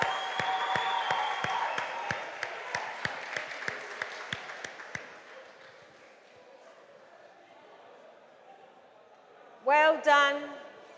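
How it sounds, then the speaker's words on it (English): Audience at a national junior science and maths quiz championship claps for a winning school: a burst of evenly spaced, rhythmic claps that fades after about five seconds, then quiet until a voice speaks near the end. "Give them a round of applause."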